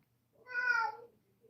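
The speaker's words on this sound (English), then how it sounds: "the kitty just said, yep" A house cat lets out a single clear, drawn-out meow close by, with quiet surroundings before and after.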